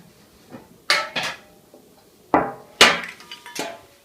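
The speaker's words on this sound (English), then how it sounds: "I'm going to take my cookie sheet" An ungreased metal cookie sheet is handled in a kitchen, giving several sharp metallic clanks and rattles in irregular bursts, close and fairly loud with quiet gaps between.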